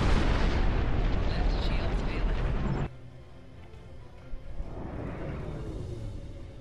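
Loud, dense barrage of weapons fire in a space battle, a continuous roaring rumble of blasts that cuts off abruptly, leaving a quieter low rumble with a few scattered bursts afterward.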